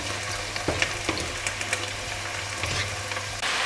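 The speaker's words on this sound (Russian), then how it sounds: "Перемешиваем и жарим до готовности." Potatoes with paprika sizzle steadily in a hot pan, with a few soft scraping clicks as they are stirred; a low hum runs underneath.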